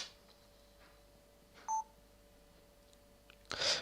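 An iPhone gives short electronic keypad tones while it is unlocked. A few faint beeps are spaced out over quiet background hiss, and the last tone is a louder burst. No one speaks.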